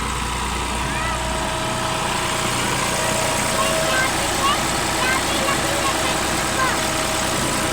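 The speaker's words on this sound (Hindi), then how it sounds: "यहाँ पर जो है ट्रैक्टर जो है मशीन चला रहा है, इंजन जो है चला रहा है मशीन को" A tractor engine runs steadily, powering a mustard oil extraction machine outdoors at a farm, a loud continuous mechanical drone and vibration with a voice speaking over it.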